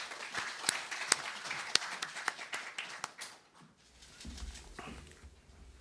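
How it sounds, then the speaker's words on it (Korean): Close applause at an investment education platform launch event, sharp individual claps for about three seconds, then it fades to quiet room noise and a low rumble. "회장님을 큰 박수로 맞이해 주시기 바랍니다."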